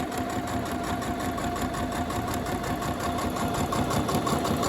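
A Necchi NC-102D sewing machine runs a steady line of stitching, its motor humming with a fast even mechanical chatter that carries on unbroken and fairly loud, close up, with no talking.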